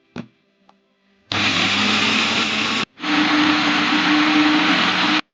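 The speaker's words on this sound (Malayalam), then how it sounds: "തേങ്ങയുണ്ട്, അതിനകത്ത് ഇച്ചിരി കാന്താരിയും മല്ലിപ്പൊടി, മഞ്ഞൾപ്പൊടി, ജീരകം എല്ലാം കൂടി ഇട്ട് നമുക്കൊന്ന് അരച്ചെടുക്കാം." A mixer grinder blending coconut with kanthari chilli, coriander powder, turmeric and cumin into paste: a brief clatter, then a loud, steady whirring burst, a short pause, and a second long grinding run.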